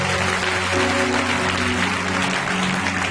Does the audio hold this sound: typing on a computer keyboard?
no